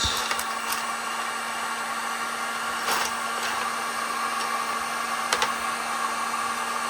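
A heat gun blows hot air onto a custom action figure, making a steady, close whirring drone over a constant hum, with a few faint clicks.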